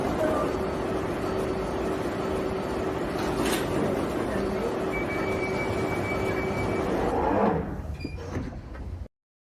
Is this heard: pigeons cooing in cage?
no